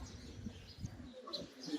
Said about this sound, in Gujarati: ઉપરના ભાગમાં કબૂતર કહી શકાય એવા અસંખ્ય કબૂતરો